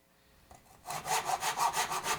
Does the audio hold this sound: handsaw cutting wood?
yes